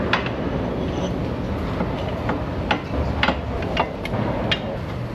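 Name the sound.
slide hammer pulling a Subaru axle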